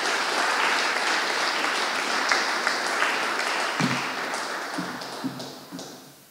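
An audience claps at a school award ceremony for a fair-trade class, a full round of applause that gradually thins and fades, with a few scattered taps and clicks near the end.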